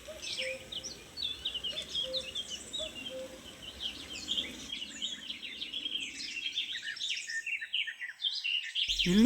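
A song thrush sings in a French woodland during breeding season, clear repeated bird phrases at moderate distance over a quiet background, with other faint chirps and insect-like trills around it.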